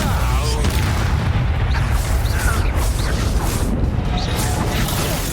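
Incendio fire spell blasts in the video game Hogwarts Legacy, dense loud booming and whooshing combat effects filling the clip continuously with no clear gaps.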